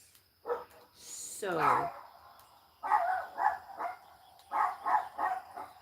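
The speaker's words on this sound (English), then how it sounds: "As the dogs bark." Several dogs barking on a back porch, a yelp and whimper followed by repeated clustered barks in two bursts, fairly close, with a person's voice briefly in the middle.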